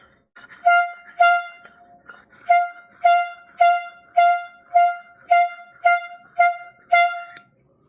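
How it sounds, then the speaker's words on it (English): A series of about ten short, loud air horn blasts at a live vinyl record sale, honking in a steady rhythm with brief gaps between them. "Now we got to blow an air horn."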